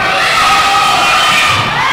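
A wrestling crowd reacting with disapproval during a match, a steady, loud wash of massed voices and shouting that fills the arena without a pause.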